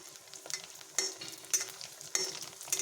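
Pieces of phuchka fry in hot oil with a soft, steady sizzle, punctuated by several light clinks and scrapes from stirring at a regular pace.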